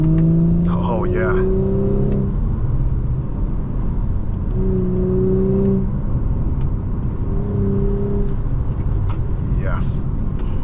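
Engine of a 2020 Audi S4 3.0T Prestige revving through quick paddle-shift downshifts on a winding road, heard from inside the car as loud repeated rising and falling blips over a steady cabin drone.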